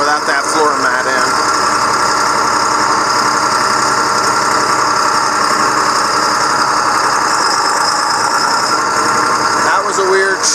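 The engine of a 4960 tractor runs steadily, heard from inside the cab with the floor mat removed, a loud, constant rumbling drone with vibration throughout.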